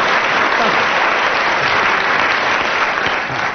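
A studio audience at a 1979 Christmas radio panel show breaks into a full, sustained round of applause, dense and steady for the whole stretch before easing slightly at the end.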